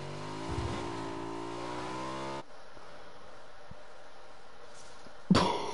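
In the video game PUBG, a motorcycle engine revs with a rising whine that cuts off abruptly, followed by quieter game ambience and a sudden loud burst at the end.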